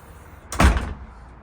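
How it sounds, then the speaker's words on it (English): A commercial door with an adjusted closer swings shut and slams once, a single loud, close thud with a short rattle, surrounded by quiet room tone. "I'm going to let it go, and I'm going to see how bad it slams."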